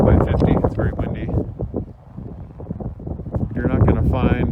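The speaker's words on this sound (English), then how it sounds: "It's very windy." Strong wind gusts roar across the microphone outdoors at a rural acreage property beside a new shop building, loud and rushing throughout, with someone talking underneath.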